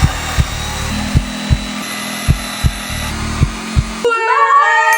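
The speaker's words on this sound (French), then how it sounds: "on sort la scie sauteuse" A jigsaw cuts through floor planks in an apartment with a steady buzzing whine, broken by regular sharp knocks from the blade, then stops abruptly as a different tonal sound takes over.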